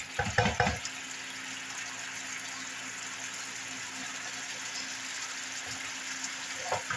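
Tricolored coleslaw sizzles in a pan with browned meat, a quiet, steady frying hiss after a brief louder clatter at the start.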